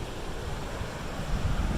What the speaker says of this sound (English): wonderful river in front of us